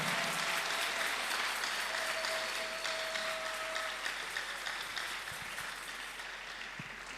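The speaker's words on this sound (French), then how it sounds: "Applaudis très bien pour le Seigneur" A church congregation claps together in a dense, steady wash of applause that slowly fades, with a brief tonal note ringing partway through.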